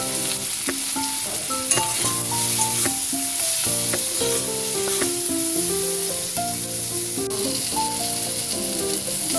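Turmeric goes into a pan of frying soybean dopiaza with a loud, constant sizzle, while bright tonal notes like background music run over the hiss throughout.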